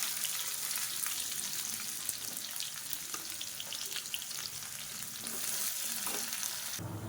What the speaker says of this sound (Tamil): இப்போ மீடியம் சைஸாக ஒரு பெரிய வெங்காயம் நீளமாக நறுக்குனதை சேர்த்துக்கலாம்